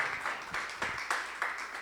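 A church congregation applauding in a short burst of rhythmic clapping, about five fairly even claps in a row, moderately near and alone.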